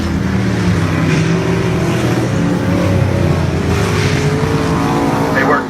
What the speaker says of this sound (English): here comes Siglich gaining on Gauthier for the runner-up spot as we work lap number 2